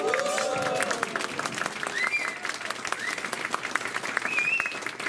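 Sustained audience applause for Seoul Mayor Park Won-soon at a Democratic Party Seoul chapter labor committee disbanding ceremony, dense steady clapping filling the room with a few faint voices and whistles mixed in.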